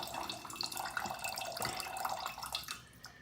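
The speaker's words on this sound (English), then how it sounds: "I'm just going to pour out the string bean juice." String bean cooking liquid pours out through a strainer into a sink, a steady close splashing and trickling stream that tapers off at the end, with no talking.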